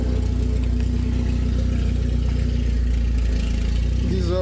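A BMW E36 engine idles after a fresh cylinder head and timing chain install, a steady close rumble with an even mechanical chatter throughout and a slight rise in pitch just at the end.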